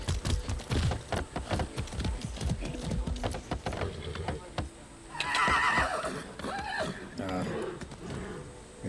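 A horse in the video game Far Cry 6 whinnies and its hooves clip-clop in a busy, irregular stream, with a loud neigh standing out midway, while players talk over the action.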